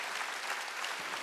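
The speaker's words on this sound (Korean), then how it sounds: "박수 치려고 치라" A church congregation claps together during a Wednesday worship service, a dense, steady patter of many hands heard at moderate volume from across the room.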